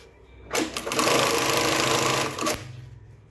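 A Jack JK-T1900 BSK automatic bar-tack sewing machine stitches a 20 mm bar tack through layered webbing tape, a loud close rapid mechanical chatter lasting about two seconds, with a click of the trimming cutter at the end.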